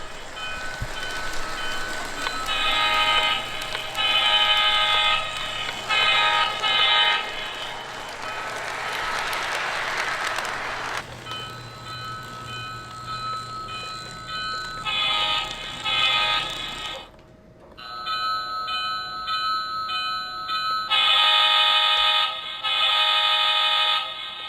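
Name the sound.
toy train horn and bell sounds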